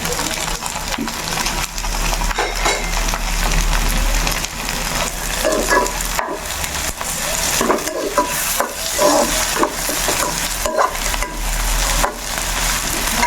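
Tomatoes stirred and fried in a pan for Tamil-style mushroom gravy: a continuous close sizzle broken by repeated scraping, clattering spoon strokes, with no talking.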